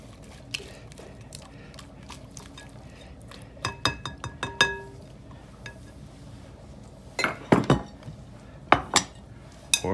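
Caesar salad lettuce is tossed with dressing in a bowl: bursts of bright clinks and knocks against the bowl come in clusters between quieter rustling stretches.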